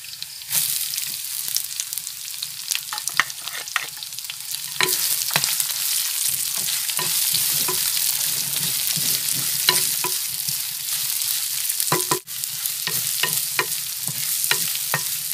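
Onions and curry leaves sizzle steadily in hot oil in a pan, a continuous close frying crackle broken by repeated scraping strokes of a stirring spoon, with no voices.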